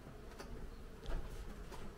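Caucasian honeybees drone steadily at a hive in a low, continuous hum with no talking, a busy swarm close by.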